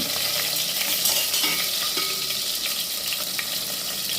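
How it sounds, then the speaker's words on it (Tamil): Onions sizzle steadily as they sauté in a pan, and chopped tomatoes go in, with stirring scrapes under a constant, fairly loud frying hiss and no voices. "வெட்டி வச்சுருந்தேன் அந்த தக்காளியை அதில் சேர்த்துக்கலாம் வெங்காயம் வதங்கிடுச்சு"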